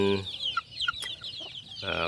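Young chicks in a brooding cage cluck and peep in quick, overlapping calls at close range, with no talk over them.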